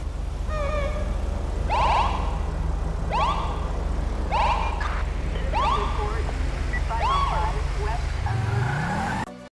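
Police car in GTA 5 giving a series of short siren chirps, five quick evenly spaced whoops followed by a slower one, over a steady engine idle that swells as the car pulls away.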